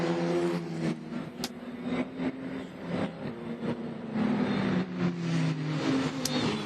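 Open-wheel FR Americas race cars circle the Canadian Tire Motorsport Park (CTMP) circuit during a Labour Day weekend sprint race. Engines hum and whine steadily at moderate distance, with pitch sweeps as cars pass, and no talk over them.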